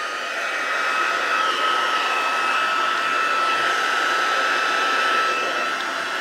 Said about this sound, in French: Je vais prendre mon pistolet chauffant.